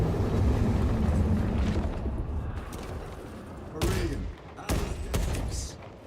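Gunfire rattles at a demon during a Warhammer 40K Space Marine 2 battle, a rumbling barrage of dense shots followed by a few sharp, loud blasts and thuds, with voices speaking over the combat.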